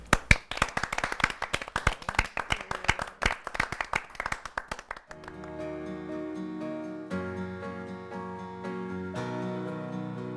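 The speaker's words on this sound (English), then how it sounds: "let's give a warm round of applause" Lively audience clapping for a singer at a televised talk show, loud and brisk for about five seconds before it stops abruptly and sustained musical tones take over.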